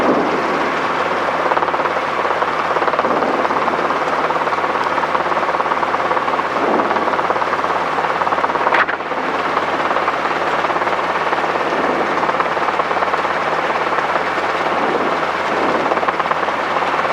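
A Robinson R22 helicopter hovers with a loud, steady rotor and engine drone heard from close inside the cabin, continuous throughout without talk.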